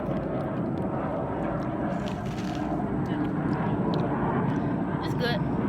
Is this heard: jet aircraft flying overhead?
yes